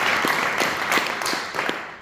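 Brief applause at a boxing press conference, a few scattered, fairly distinct claps from a small audience over a couple of seconds, thinning toward the end.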